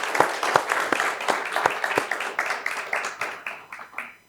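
An audience applauds at a Spanish-language event, a burst of dense hand clapping that starts strong and gradually thins out, fading away by the end.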